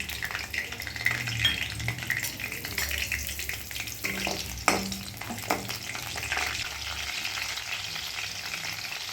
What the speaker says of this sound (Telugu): ఫస్ట్ పచ్చిమిర్చి ఆయిల్లో ఫ్రై చేసుకుందాం.